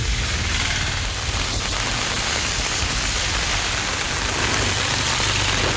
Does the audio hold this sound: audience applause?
no